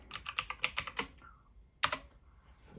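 Keystrokes on a computer keyboard spelling out a short folder name for an Amiga A500 Mini setup: a quick run of about seven crisp clacks, a pause, then one louder final key press, close and clear with no talking.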